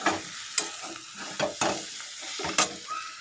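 Potato and cabbage stir-fry in a pan with a soft sizzle, broken by several sharp scrapes of a spatula at an irregular rhythm, close and moderately quiet.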